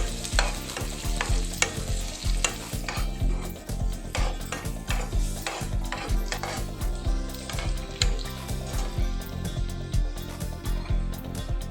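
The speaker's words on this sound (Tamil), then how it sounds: "இப்போ திராட்சையை சேர்த்து இதில் நல்லா வறுத்து எடுத்துடலாம்." Raisins fry in hot ghee in a pan for carrot halwa, a dense steady sizzle cut by constant loud scraping and clatter of a spoon stirring them, with no voices.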